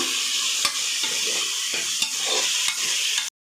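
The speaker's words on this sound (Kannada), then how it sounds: "ಇದು ಸ್ವಲ್ಪ ಮೆತ್ತಗಾಗೋವರೆಗೂ ಫ್ರೈ ಮಾಡ್ಕೋಬೇಕು." Tomatoes sizzle in hot oil in a pan for soya vegetable biryani, a steady loud frying hiss broken by a few sharp spatula knocks at regular intervals, then the sound cuts off abruptly.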